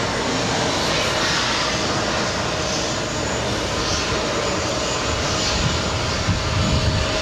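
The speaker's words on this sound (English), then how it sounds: "That is JetBlue 1823 going. That's an LA flight going back to LAX." A JetBlue jet airliner takes off at JFK airport, its engines a loud, steady roar that holds at the same level for the whole stretch, with no talk over it.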